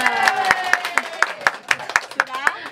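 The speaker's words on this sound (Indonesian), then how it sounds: "Tepuk tangan buat kita semua." A crowd at a local election campaign event claps in an even rhythmic beat, about four claps per second, while voices carry on over the clapping.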